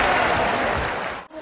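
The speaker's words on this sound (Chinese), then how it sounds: "请同学鼓掌欢迎他" Students at a school event clap to welcome a guest reporter, a dense burst of applause that fills the moment and then cuts off abruptly.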